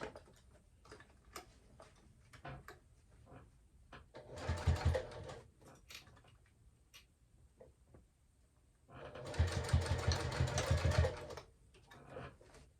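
A sewing machine stitches a clutch wallet in two bursts of rapid, steady stitching, separated and framed by scattered clicks and taps of fabric being adjusted by hand.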